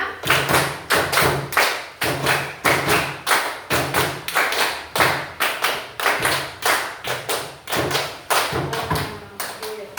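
Rhythmic hand claps in regular bursts, loud and close, repeating steadily throughout with short pauses between groups.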